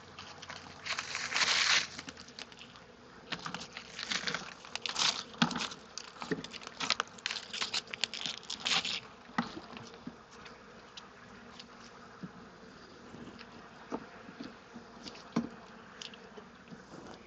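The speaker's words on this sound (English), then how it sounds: "So there's some more bees." Honeybees crawling over a hive frame holding stored sugar in the comb at a home yard, a close buzzing hum with scattered crackly taps and bursts of louder wingbeats, with no talking.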